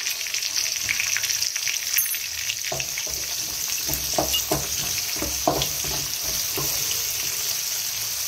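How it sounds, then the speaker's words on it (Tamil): Chicken chukka masala with small onions sizzles and fries in a pan, with scraping stirs and clinks over a constant hiss, heard close and fairly loud. "நல்லா வதக்கிக்கலாம்."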